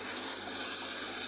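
Spice paste mixed with water sizzles steadily in a pan of fried onion and garlic, a close, even hiss with light stirring and no talking.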